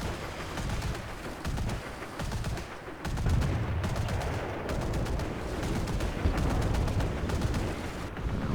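Tank battle gunfire in the War Thunder game with an AMX-30 engaged, rapid repeated bursts of shots and heavy booms crowding over a constant rumble, loud and continuous throughout.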